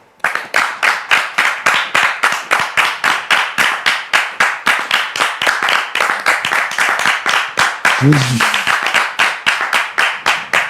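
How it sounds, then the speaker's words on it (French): Studio audience clapping in unison to welcome a guest, a loud, regular rhythmic beat of hands that continues throughout, with a brief voice near the end. "Sous vos applaudissements"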